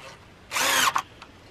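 A power drill drives a 2.5 inch screw into wood for a playhouse platform build, with one short, loud whirring burst of under half a second, followed by a brief tail.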